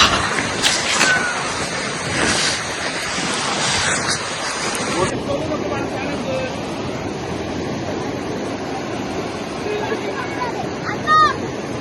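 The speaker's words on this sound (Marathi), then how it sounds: "धबधबा धबधबा." Broadband rushing water from a waterfall at an outing spot where people are wading, loud and continuous throughout, with voices and chatter over it at the start and faint talk later.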